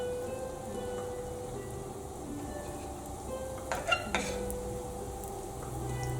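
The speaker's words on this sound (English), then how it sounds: "And deep fry the onion." Chopped onion deep frying in hot oil, a low, steady crackling sizzle with a couple of brief clatters midway, quiet and with no voices.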